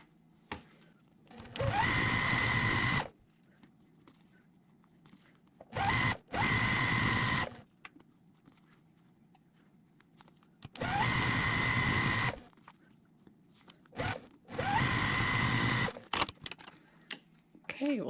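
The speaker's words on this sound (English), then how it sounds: "we're just going to complete that now while we're at the sewing machine." Domestic sewing machine stitching quilt flying geese units: four bursts of steady, fast whirring stitching, each a few seconds long, separated by quiet pauses with faint handling sounds, fairly close.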